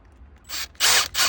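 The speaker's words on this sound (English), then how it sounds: "pretty much just gonna drill it out just like that" A power drill whirs in short bursts, two or three quick spurts of high-pitched grinding close by, separated by brief pauses, drilling out a roughly 3/8 bolt head on a BMW M4.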